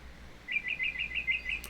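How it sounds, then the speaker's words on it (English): A library bird song effect: a quick run of about seven bright chirps in an even trill, clear over faint background hiss, with no talking. "Or maybe I want to add some bird sounds"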